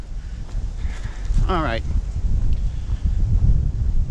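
Cold wind beside a river roars as steady, heavy buffeting across the microphone throughout. Someone speaks briefly over it.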